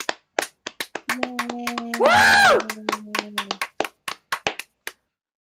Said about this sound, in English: Applaud him. Applaud Alex.